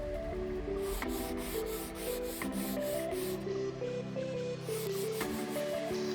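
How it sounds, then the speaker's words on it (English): Steady back-and-forth rubbing of 220-grit sandpaper by hand on a wooden table, soft and continuous, with faint tonal hum and background noise underneath. "I have 220 grit and I'm just going to start sanding."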